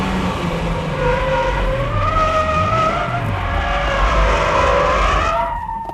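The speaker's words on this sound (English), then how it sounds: "That's how you keep control and drift with understeer." A car drifting with understeer, its tires squealing in long wavering tones that rise and fall over a droning engine, loud and close, fading at the end with no voices.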